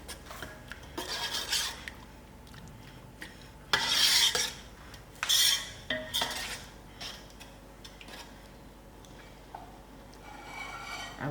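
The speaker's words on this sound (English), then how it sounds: "Give this a good stir." A utensil scrapes and stirs sour herbs and dhal in a metal pan, giving repeated rasping strokes and clinks, close up, with a few louder scraping bursts and faint sizzling.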